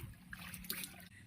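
Water pours steadily from an outdoor shower beside a swimming pool at a misty hillside family campground, a close, continuous trickling splash with no voices.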